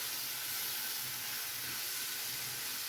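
Jackfruit kesari cooking in a pan, giving off a steady, even hiss of steam and soft bubbling that holds unbroken throughout, close and moderately quiet.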